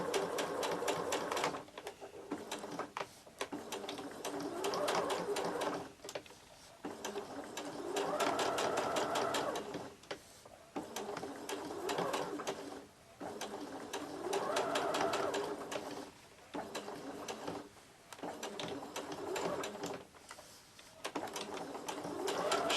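Sewing machine stitching ribbons onto batting for Christmas ornaments, running in steady whirring bursts of several seconds with brief pauses between, close and clear with no talking.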